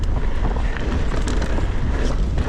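Strong, steady wind roars and buffets the microphone on a steep mountain trail in Spain, a constant loud rush filling the whole moment with no talk.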